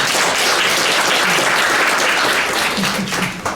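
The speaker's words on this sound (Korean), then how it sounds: "박수 한번 크게 보내주세요." Audience applause at a Universal Declaration of Human Rights 70th anniversary event on North Korean human rights: a dense, steady roar of many clapping hands, loud and sustained throughout with no break.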